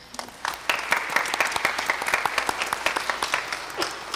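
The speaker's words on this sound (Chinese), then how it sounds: "再度鼓掌表示欢迎" Congregation applauding during a Catholic Mass on the first Sunday of Advent, a dense, steady patter of many hands clapping in a reverberant church for several seconds, with no voices over it.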